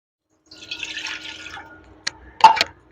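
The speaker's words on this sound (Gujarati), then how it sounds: "એડ કર્યું છે હવે પાણી" Water pours from a vessel into a pan on a gas stove for about a second and a half, followed by a few sharp clanks and drips; nearby and fairly loud.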